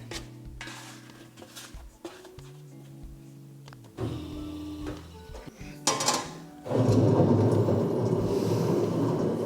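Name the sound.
bakery dough mixer machine running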